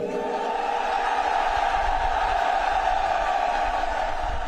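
Massive rally crowd of hundreds of thousands at an outdoor site, a continuous dense roar of voices and cheers that stays steady and broad throughout, distant and diffuse with no single speaker standing out.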